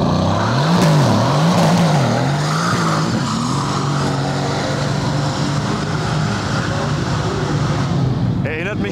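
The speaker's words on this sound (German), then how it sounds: "der C63 lässt die Räder durchdrehen" Mercedes C63 spinning its wheels at a car show, a loud sustained engine roar that rises and falls before settling into a steady drone, with tyre noise mixed in.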